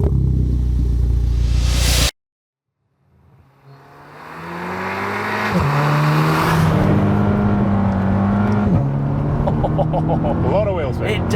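A VW Polo GTI Clubsport engine cranks and catches after a loud burst of noise, then idles and climbs through rising revs with shifting pitch, close and strong, while people talk over it.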